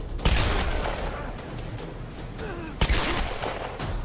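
Gunfire in the video game Tomb Raider: two sharp, loud shots several seconds apart over a dense bed of game noise and rumble, no talk.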